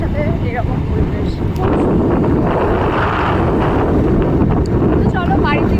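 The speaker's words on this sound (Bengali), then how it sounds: "মানে হাওয়া দিচ্ছে, বৃষ্টি হচ্ছে, মেঘলা আবহাওয়া" Strong wind roars over the microphone on a rainy, cloudy day while riding a motorbike along a road, a loud continuous buffeting with a voice faintly under it.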